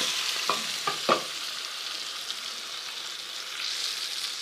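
Green chilli masala with ground garam masala fries in a pan for a green chilli gravy, a steady close sizzling hiss with a few quick stirring clinks near the start.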